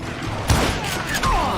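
Gunfire in a western video game, a couple of sharp booming shots in quick succession with a brief whining ricochet-like tone after, loud and close.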